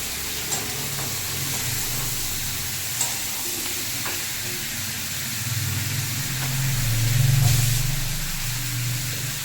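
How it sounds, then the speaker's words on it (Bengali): Ingredients including capsicum fry in a pan for lemon chicken stew, a steady sizzle with occasional stirring scrapes that swells louder toward the end. "দিয়ে ভালো করে ফ্রাই করে নেবো"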